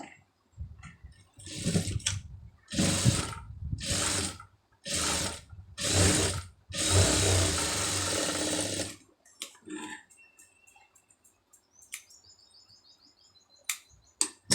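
An electric sewing machine stitches a hook strip onto a blouse neckpiece in about six rapid, loud bursts with short pauses between, the longest run last, then falls quiet apart from faint bird chirps.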